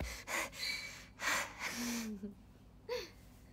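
A young woman pants and gasps out of breath after hurrying back to her room, giving a series of sharp breathy gasps and exhales with short pauses between them, faint and close.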